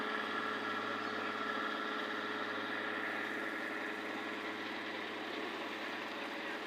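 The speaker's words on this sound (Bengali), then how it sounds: "পিছনে নৌকা আছে, নৌকা চলে," On the Kushiyara River, a passenger launch engine drones at an even, constant level, with a low vibrating rumble beneath a busy mid-range hum and nothing else audible.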